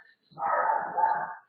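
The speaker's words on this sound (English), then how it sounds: "excuse my dog's barking" A single prolonged dog bark or howl rises out of silence, close by, lasting about a second before fading.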